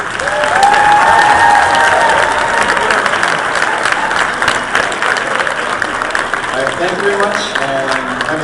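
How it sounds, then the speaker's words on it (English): Audience applause for the performing groups at a school winter concert: a dense, sustained round of clapping with some crowd noise, and a voice speaking over it near the end. "how about one more round of applause for all the performing groups tonight?"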